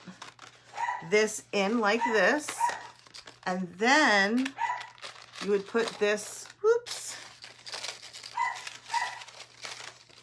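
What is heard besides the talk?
dog barking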